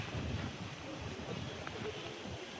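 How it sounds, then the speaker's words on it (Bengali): Strong gusty wind by a river in the Sundarbans buffets the microphone with low rumbling gusts, fairly faint and continuous, with a rough roar throughout. "সকালবেলা উঠেই ঝোড়ো হাওয়া, প্রচুর একটা হাওয়া হচ্ছে"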